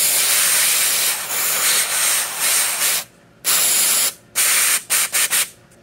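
A loud aerosol can of cleaner hisses in one long spray onto a Honda GCV160 engine, then several short bursts with brief silences between, close up.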